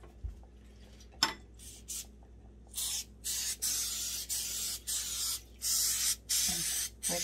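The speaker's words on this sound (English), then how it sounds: "Spray some oil in there" A sharp clack, then a series of short hissing bursts from a can of cooking oil spray, repeated in an irregular rhythm up close.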